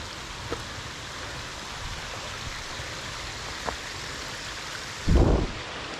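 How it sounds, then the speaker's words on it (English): Continuous water splashing off a rock shelf, rushing steadily nearby at Frozen Head State Park, with a brief louder low burst near the end. "Coming off that shelf up there and splashing."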